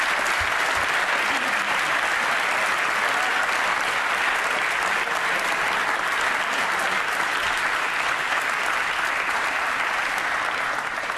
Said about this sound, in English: could everybody in this chamber please join me in a humongous round of applause for everybody at the BYP